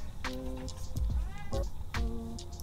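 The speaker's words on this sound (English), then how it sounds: "If you meow the whole time, we're gonna fall out." A cat meows close by, three drawn-out, wavering cries spaced roughly a second apart, loud and clear against a quiet indoor background.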